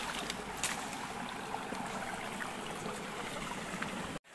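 A small Himalayan mountain stream channel that feeds hillside fields flows with a low, even rush and gentle trickle, continuous and fairly soft throughout, ending with a brief dropout.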